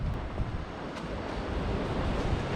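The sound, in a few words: waves on Sesimbra main beach, Portugal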